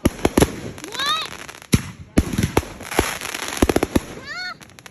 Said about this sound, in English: How much more fireworks do we have?